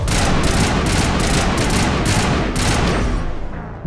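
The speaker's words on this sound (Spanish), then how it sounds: "De un disparo me mató el francotirador." Rapid bursts of sniper gunfire crackle continuously, dense and loud, in a firefight in the video game Mass Effect: Legendary Edition.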